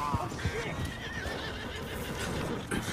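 A horse in the video game Red Dead Redemption 2 gives a loud, wavering whinny, with hoof clip-clops and game ambience around it.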